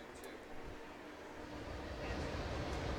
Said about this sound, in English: You can hear that train rolling by here in Nettleton.